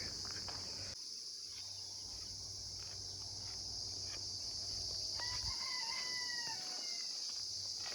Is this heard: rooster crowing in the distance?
yes